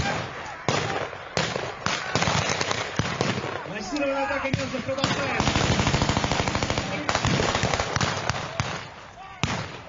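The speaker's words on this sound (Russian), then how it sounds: "В ответ на пропаганду звучат только выстрелы." Rapid bursts of machine gun fire mixed with scattered gunshots, sustained and rattling, with someone speaking over the barrage.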